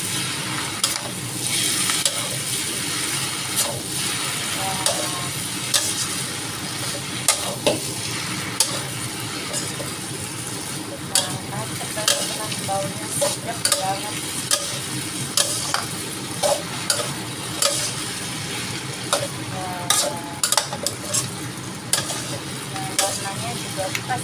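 Noodles are stirred quickly while they fry in a pan, a steady sizzle with frequent clicks and scrapes of the utensil against the metal throughout, talk faint or absent.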